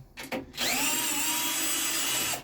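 A power drill or driver whirs steadily for about two seconds while removing the heat exchanger from a combi boiler during servicing. It is close and loud, with a few short bursts before the main run.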